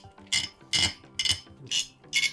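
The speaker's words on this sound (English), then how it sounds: "And just keep screwing until it stops." Screws being driven into a motherboard during a gaming PC build make five short, separate metallic ratcheting bursts, evenly spaced, close and fairly crisp with quiet gaps between them.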